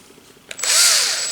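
A traditional power drill spins up to full speed alone, a sharp high whine with a rising then settling pitch after a quiet lead-in, loud and close.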